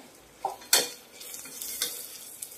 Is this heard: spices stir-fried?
yes